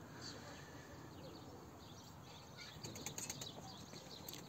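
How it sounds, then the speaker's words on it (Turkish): Soft, rapid flapping of a pigeon's wings as it comes in to land swells briefly against a steady outdoor hiss, growing a little louder and choppier toward the end. "İnişe geçti kuş."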